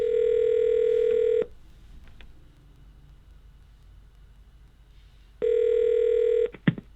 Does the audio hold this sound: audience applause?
no